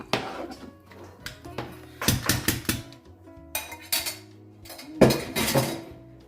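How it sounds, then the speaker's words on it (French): Millet couscous with dates being stirred in a pot, with bursts of metal spoon scraping and clinking against the pot in irregular clusters, close and fairly loud, with no voices. "Donc là, je mélange."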